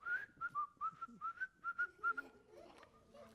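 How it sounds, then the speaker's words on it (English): Someone outside a window whistles a clear, lilting tune in a string of short, evenly spaced notes, then trails off into fainter, lower sounds. "Just outside the window, he hears somebody whistling"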